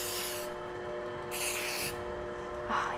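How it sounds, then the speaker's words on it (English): Two short hissing bursts of cake spray (cooking spray with flour) into a cake pan, close and clear, separated by a pause, with a faint rustle at the end. "I'm going to spray it with some cake spray, which is cooking spray and flour in one."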